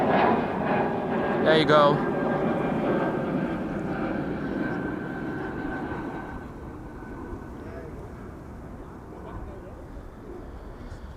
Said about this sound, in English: This is Bulgaria going to Sofia, A220 300.